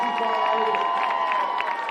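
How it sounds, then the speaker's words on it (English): A crowd cheers and claps at a high school varsity football game, a brief, busy swell of voices and applause with a public-address voice over it. "let's hear one more big round of applause for the"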